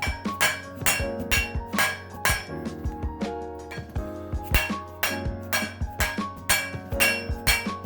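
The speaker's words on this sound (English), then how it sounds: "Just gotta beat it in place with a mallet and it should stick out 1/8 of an inch." Mallet repeatedly striking a seal into place on the axle of a 1970 Chevelle's Ford 9-inch rear end, a close, rhythmic series of sharp metallic knocks, about a dozen evenly spaced blows with slight ringing.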